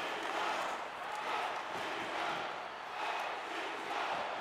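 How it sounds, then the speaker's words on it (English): Arena crowd noise from the NHL 23 hockey video game swells for the Kings. A faint, steady roar rises and falls across the stretch, with no clear voices on top. "the crowd's coming alive for the Kings here"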